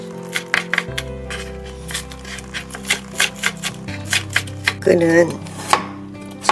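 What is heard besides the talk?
knife chopping green onions and carrot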